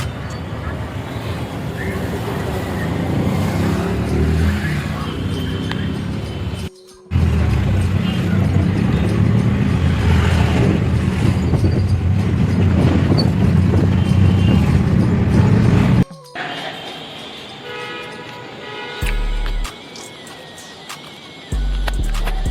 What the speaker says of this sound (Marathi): आता ही दुसरी रिक्षा आहे आमची.